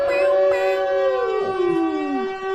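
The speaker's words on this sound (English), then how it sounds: "Hey, Romy, turn the sirens on" A wailing siren sweeps through rising and falling tones, loud and close, with harmonic layers sliding down near the end.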